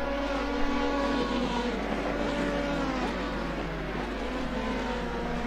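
A race car engine in the Assetto Corsa sim racing game, a steady droning engine note with shifting pitch lines as revs change, continuous and fairly loud with no talking.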